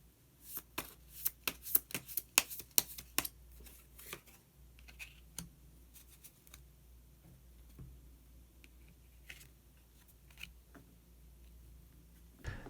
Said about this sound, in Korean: 그러면 마지막으로 마법사 카드 한 장 더 뽑아보도록 하겠습니다